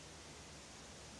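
A natural river flows beside a hotel in Bogor, giving a faint, even, unbroken rush of water with no other sounds.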